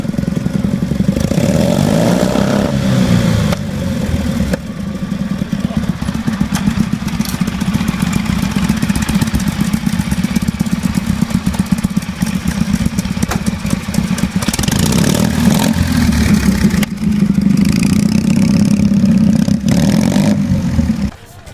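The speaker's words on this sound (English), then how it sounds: "a festival like this is going to attract the hot rods of tractors" Antique hot rod tractor engines idle and rev outdoors at a gas engine festival in Dublin, New Hampshire, a loud continuous mechanical roar that swells and eases over time.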